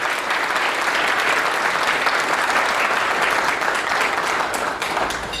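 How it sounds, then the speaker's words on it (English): A gala audience at a Latino scholarship fund award ceremony claps loudly. The dense, sustained applause fills the hall without letting up, and no voices stand out. "Please give them a round of long applause because they make it happen."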